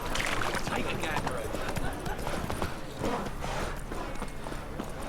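Roach, a horse in the video game Witcher 3, gallops with quick, rhythmic hoofbeats close by, a steady clip-clop run over a busy background.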